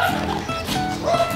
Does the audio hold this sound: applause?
no